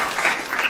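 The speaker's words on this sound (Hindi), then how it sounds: "जोरदार तालियां।" A school quiz audience claps, a short burst of dense applause from a crowd of pupils that stays even and lively throughout.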